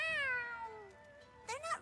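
A cat in the video game Tales of Xillia 2 gives a clear drawn-out meow with a falling pitch, then a second shorter meow follows after a brief pause.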